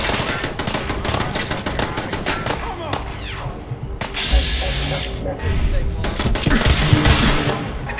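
Rapid automatic turret fire in Fallout 4 crackles in dense bursts across the whole stretch, loud and close, with game effects and someone talking between shots.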